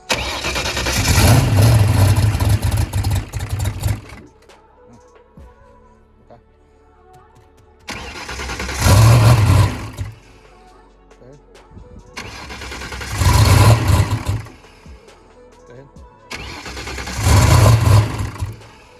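A car engine being switched from methanol to gasoline cranks in four separate bursts, each a few seconds long with pauses between, grinding and sputtering close by without fully catching for lack of fuel.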